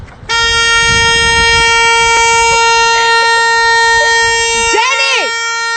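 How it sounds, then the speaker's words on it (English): A dog presses a car horn, sounding one long steady blaring honk that runs nearly the whole time and then wavers and bends in pitch as it ends, loud and close with no talk over it. "my fucking dog honks the horn at me when I take too long"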